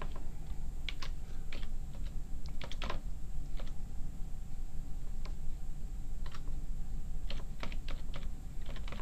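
Typing on a computer keyboard while entering a chart title in a spreadsheet: bursts of quick key clicks come in irregular clusters over a steady background hum, with no talking.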